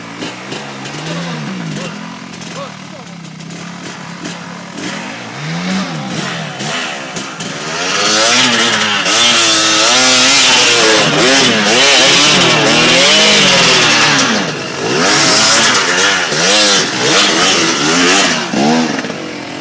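An enduro motorcycle climbs a rough, damaged trail, its engine loud and close, revving hard in repeated rising and falling bursts that grow fuller midway as the rider pushes uphill, while people talk at times over it.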